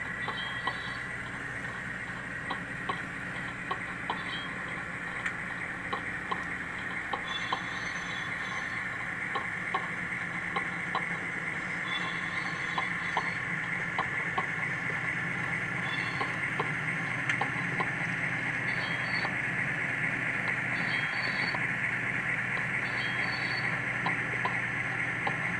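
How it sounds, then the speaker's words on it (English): Model train locomotive with a Tsunami sound car rolling along track, a steady rhythmic clickety-clack of wheels over a continuous mechanical hum, constant level throughout. "You hear the wheels clack."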